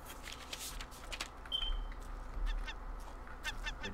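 A bird squawking in the Raft survival video game: a few harsh, honking calls, clustered toward the end over low ambient game noise.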